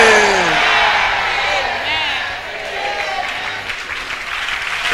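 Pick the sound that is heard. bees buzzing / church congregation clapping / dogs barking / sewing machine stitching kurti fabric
church congregation clapping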